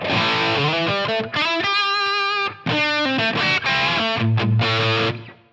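Distorted electric guitar chords and notes ring out through a reverb effect with shortened decay. The tone is loud and close, with phrases cut off in brief gaps.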